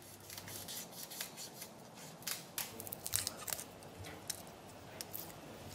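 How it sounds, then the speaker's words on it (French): Fresh thyme being cut for a Senegalese dish, a close, quiet run of repeated crisp snipping and rubbing strokes that continues steadily throughout with no talk. "Maintenant, on va couper le thym."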